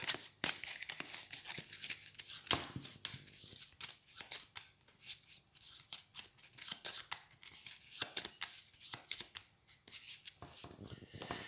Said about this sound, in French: On remélange pour se refaire une main de cette carte.